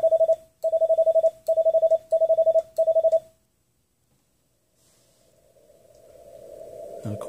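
Steady CW Morse code tones come from an Icom IC-7300 transceiver, rounded and soft through passband tuning, in five evenly spaced bursts of dits, followed by silence and then rising band noise.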